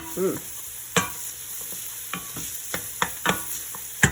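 Aromatics sizzle steadily in a hot pan, broken by a series of sharp scraping clacks from stirring, with no talking.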